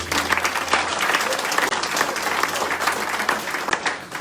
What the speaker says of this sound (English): So give him an applause too.